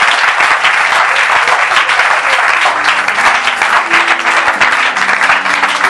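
A church congregation applauds loudly in a dense, sustained wave of clapping that fills the hall, while faint sustained tones hum underneath.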